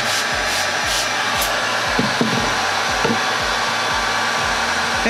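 Steady hot-air roar from a heat gun blowing onto a bleached shirt for sublimation, loud and continuous with faint rhythmic clicks beneath.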